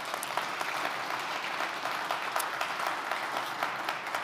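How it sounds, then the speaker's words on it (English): An audience at a community business event gives a round of applause, a steady dense patter of many hands clapping indoors that holds at an even level throughout. "Let's give them a round of applause."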